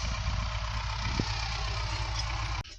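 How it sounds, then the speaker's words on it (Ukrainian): A tractor engine runs steadily through ploughing near a house, a constant loud low drone with a brief click partway through, cutting off abruptly near the end. "Плуга вчепив до іншого трактора"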